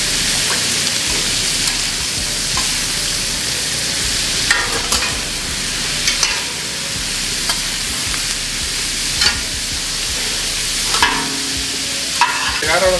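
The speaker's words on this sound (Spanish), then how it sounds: "Le vamos a agregar una cucharita de aceite." Taco filling frying in a spoonful or two of oil: a loud, continuous close-up sizzle with occasional scrapes and stirring knocks from a utensil in the pan.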